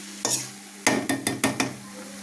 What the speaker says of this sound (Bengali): সব শেষে চিনি দিয়ে দেবো, দিয়ে ভালো করে নাড়াচাড়া করে নেব